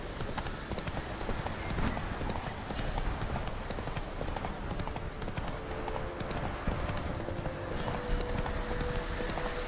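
Roach, a horse in The Witcher video game, gallops with rapid, continuous hoofbeats clattering up close, a steady clip-clop drumming throughout with some game ambience underneath.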